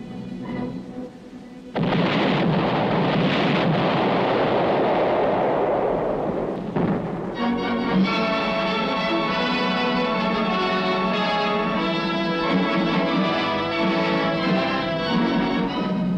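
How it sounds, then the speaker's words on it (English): Artillery fire and high explosive shells pound a hilltop in a wartime newsreel scene, a dense continuous roar of blasts that stays loud throughout, with music joining the thunder in the later part. "the infantrymen prepare to blast the Reds from still another hilltop with coordinated fire and high explosive shells"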